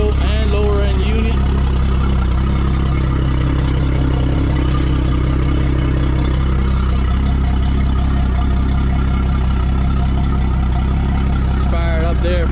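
A 2022 Yamaha F300XSB2 300 hp outboard engine runs after its 20-hour oil and lower unit service, a loud steady close idle with a clattery mechanical hum throughout and a voice briefly over it.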